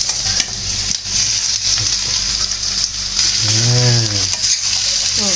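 Curry leaves and potatoes sizzle in hot oil in a pan, with peas nearby, while a spoon stirs and scrapes. A continuous loud frying hiss runs throughout, and a brief tonal voice or hum briefly rises over the sizzle.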